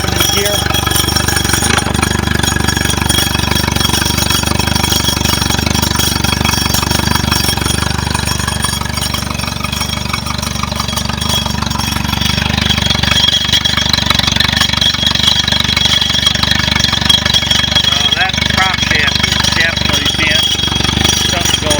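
Mercury 60 hp four-stroke outboard engine running in gear, a steady loud mechanical drone with rough, rattling texture that holds throughout, with slight swells in level toward the end.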